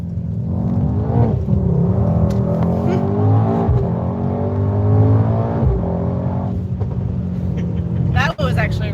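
A 2020 Mercedes-AMG GT 63 S accelerates with a loud, steady engine roar heard from inside the car, pitch climbing through gears with brief shift breaks, while people talk over it.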